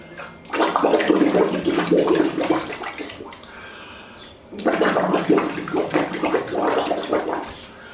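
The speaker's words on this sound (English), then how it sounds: "as soon as my face hits the water, I'm going to breathe out" Two long bursts of bubbling, gurgling water from a person exhaling underwater in open water, each lasting a few seconds, separated by a quieter pause; close and fairly loud, with no talking.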